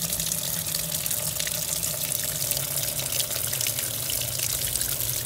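Maytag washing machine taking in water for the rinse cycle, a steady rushing flow with a constant low hum running unbroken throughout, fairly close and with no voices.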